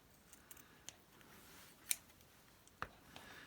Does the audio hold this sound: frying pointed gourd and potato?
no